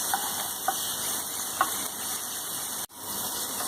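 Garlic and ginger sautéing in a pan for a vegetable Manchurian, a steady close sizzle with occasional stirring scrapes and ticks, plus a brief dropout near the end.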